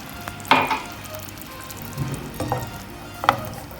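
Gentle bubbling and sizzling from a pot of egg curry simmering after water is added, with a few soft pops and stirring sounds spaced out over a quiet background.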